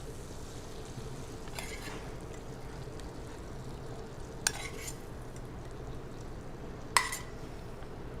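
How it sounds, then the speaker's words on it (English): Shrimp get stirred into warm grits, a soft, continuous wet churning close by, with a couple of sharp utensil clinks against the pot. "All right, so I'll add the shrimp to the grits."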